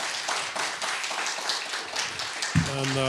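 Applause from a modest audience at a post-election panel, a steady patter of clapping, with a voice coming in near the end.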